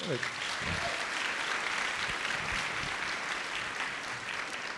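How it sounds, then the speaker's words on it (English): Steady, enthusiastic applause from a sizable crowd at a women's leadership luncheon, continuous and even throughout, with faint voices mixed in. "let's give them a big round of applause"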